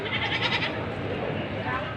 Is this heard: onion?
no